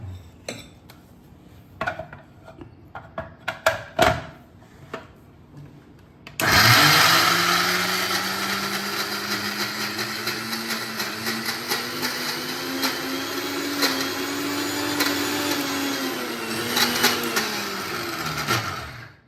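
Electric mixer grinder switched on to grind soaked dal for dahi vada batter, a loud steady motor whir with shifting pitch and rattling jar that runs continuously for over twelve seconds after a few scattered knocks and clinks.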